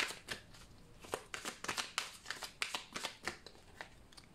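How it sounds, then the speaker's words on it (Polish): Tarot cards are shuffled and drawn close up. Quick, rhythmic bursts of riffling and flicking card sounds repeat at a soft level, with no voice. "a ja już losuję Wam karty z odpowiedziami na Wasze pytania"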